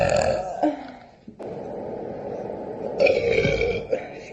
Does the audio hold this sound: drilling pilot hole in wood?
no